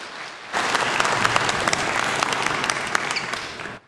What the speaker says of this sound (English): let's give Drew a round of applause and welcome him on the stage